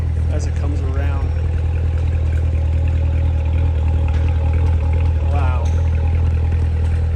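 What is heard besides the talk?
2019 Chevrolet Corvette Z06 exhaust idling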